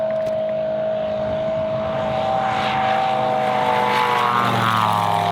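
A low-flying propeller airplane roars past during a West Coast air show flight, a loud, steady engine drone with a rising buzz as it sweeps close by, heard alone without talk.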